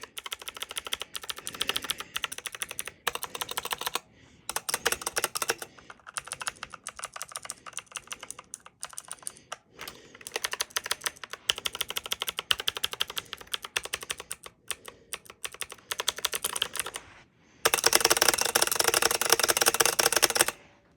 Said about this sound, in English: Very loud because it's a clicky keyboard.